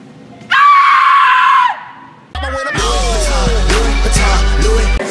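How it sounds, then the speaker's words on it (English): A person lets out a loud, sustained scream as a war cry, followed by a louder chaotic burst of yelling over a heavy booming bass rumble. "Let me hear your war cry."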